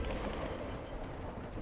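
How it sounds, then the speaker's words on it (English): Fireworks going off at an in-game celebration in Final Fantasy XIV, a dense, muffled rumble of bursts and crackles heard at a distance, steady throughout with a faint sharper pop at the end. "And we're shooting off some fireworks."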